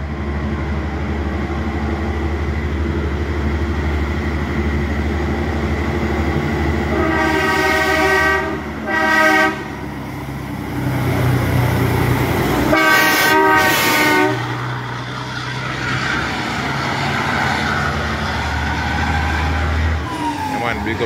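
A heavy truck rumbles by on a Jamaican road with a drawn-out engine roar, punctuated by two loud air-horn blasts, with road noise continuing before and after.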